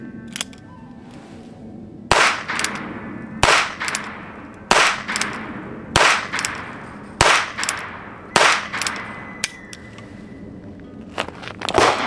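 Six quick .22 revolver shots from a Heritage Barkeep ring out at a target, each a sharp loud crack with a short ringing tail, spaced roughly a second apart.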